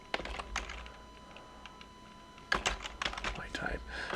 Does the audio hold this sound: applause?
no